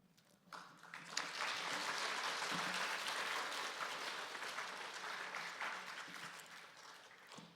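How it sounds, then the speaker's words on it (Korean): Church audience applauding after a lecture on separation of church and state, a burst of many hands clapping that swells quickly and then holds steady and dense for several seconds, heard from within the room. "우리 지영준 변호사님 다시 한번 감사의 박수 한번 하겠습니다"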